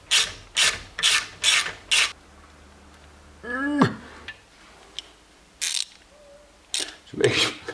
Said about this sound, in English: All the rust falling out when I spin the fucking disc.